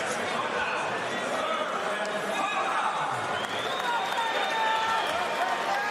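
A Bellator MMA arena crowd roars as a steady, dense wash of cheering and chatter under a fighter asking for encouragement, holding at a constant loud level for about six seconds.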